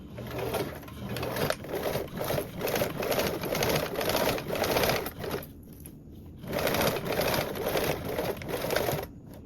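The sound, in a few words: sewing machine top stitching the top edge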